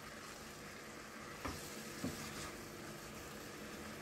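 Vegetable pasta being stirred in a pan gives a soft, steady sizzle, with two brief scraping knocks from the spoon partway through and no voices.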